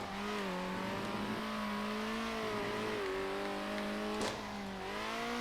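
Race cars in the top-down racing game Circuit Superstars drone steadily at close range, engine tones rising and falling with gear changes and throttle, with a brief sharp burst near the end; no voices.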